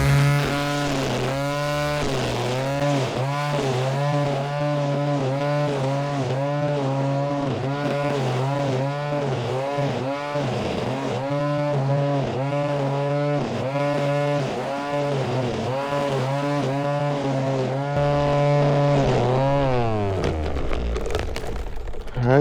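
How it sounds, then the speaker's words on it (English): High-pitched whine of a battery-powered TOTAL weed trimmer motor running fast on a fresh battery, loud and close, with the pitch wavering up and down in repeated surges before winding down at the end. "You can actually hear the sound of the motor is higher pitched and revolving faster with a fresh, strong battery pack."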